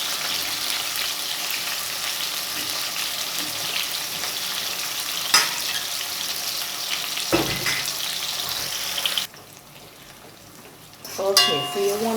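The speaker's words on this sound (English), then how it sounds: "And I'm gonna allow this to saute into the hot oil until" Tomato, garlic and seasonings sautéing in hot oil give a steady, close sizzle for about nine seconds, with a couple of brief clatters, then the sound drops away and a short clink follows near the end.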